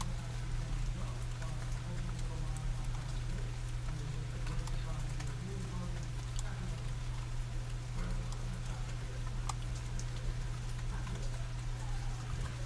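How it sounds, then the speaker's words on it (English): Steady rain falling with dense, soft pattering and scattered sharper drops against a constant low hum, continuing evenly throughout with no talk. "I hope you can hear the rain."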